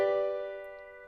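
A single chord rings out with all its notes sounded at once, clear and close, then slowly decays over about a second.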